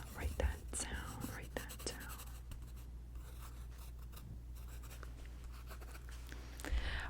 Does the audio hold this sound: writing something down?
yes